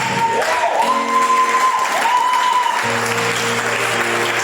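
A church congregation claps and cheers at a Sunday service, a steady loud wash of applause joined by sustained organ or keyboard chords.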